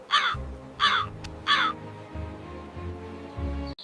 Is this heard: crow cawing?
yes